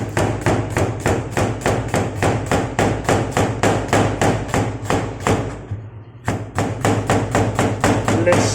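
A knife chops onion and peppers on a board for stir-fried rice vermicelli, in fast, even strokes. The steady close-up rhythm pauses briefly once, then resumes.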